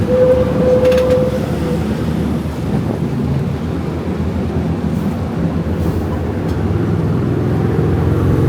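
A tram rolling on its rails in Bendigo, heard from on board as a loud steady low rumble throughout, with a brief tone near the start and faint clicks.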